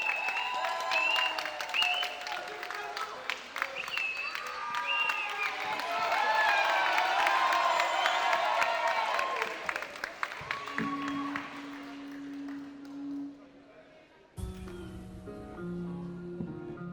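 A talent show audience applauds and cheers to welcome a singer on stage: dense clapping swells, then thins out and fades, and a musical backing track starts near the end.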